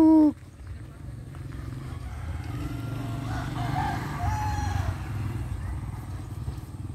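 A rooster crows briefly at the start, then steady engine rumble like a passing motorcycle takes over. A fainter, more distant call comes through in the middle, and the village outdoor setting has no talk.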